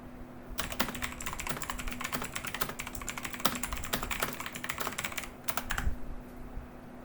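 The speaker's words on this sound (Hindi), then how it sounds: "चलें मैं किसी सेल में कुछ टाइप करके देखता हूं।" Rapid, irregular keystrokes on a computer keyboard while typing into a spreadsheet cell, close and clear, with short pauses between bursts and no talking.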